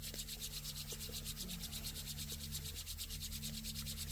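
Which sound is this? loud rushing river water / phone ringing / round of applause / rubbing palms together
rubbing palms together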